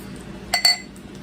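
Ice clinks against a glass of soda or whiskey in a pair of bright, close clinks, set against a quiet room hush.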